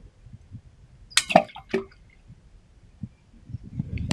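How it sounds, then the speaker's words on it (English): An object dropped down a water well on rural California land splashes into the water below, a sharp pair of close splashes followed by faint drips and small bubbling sounds. "You can see me drop it and listen for the water."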